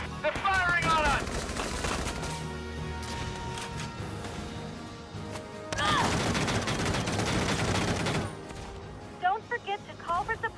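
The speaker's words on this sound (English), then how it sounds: "They're firing on us!" Enemy gunfire in Valkyria Chronicles 4 rattles in dense bursts through most of the stretch, loudest early and again after a brief lull, mixed with game music and effects while a voice speaks over it.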